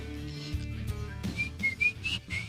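A person whistles a short commercial jingle melody, a thin, clear tone that rises in pitch toward the end, over a faint background hum with no talking.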